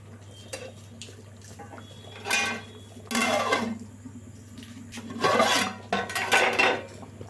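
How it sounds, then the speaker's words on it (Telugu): A fish curry in a pot is stirred with a metal utensil, giving several scraping, swishing bursts of a second or so, close and fairly loud, separated by quieter pauses over a steady low hum. "ఇలా ఒకసారి మధ్యలో ఒకసారి ఇట్లా కలుపుకోండి"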